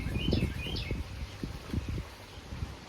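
Outdoor birds give a few high, faint chirps over a quiet background with light low rustling.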